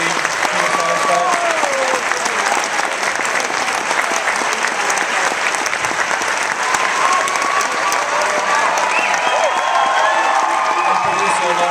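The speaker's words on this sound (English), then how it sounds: "please help keep the applause going for Rob Epstein, Jeffrey Frieidman, and their wonderful cast" A packed audience at a Sundance 2013 screening of Lovelace applauds loudly and continuously, dense clapping with scattered cheers sustained throughout at close range.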